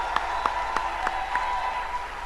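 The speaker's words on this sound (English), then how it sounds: "A round of applause." Scattered hand claps from an audience at a Bank of Ghana launch and exhibition event, a handful of distinct claps spaced across two seconds over a steady hum of room noise.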